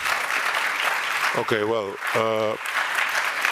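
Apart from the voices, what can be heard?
audience applause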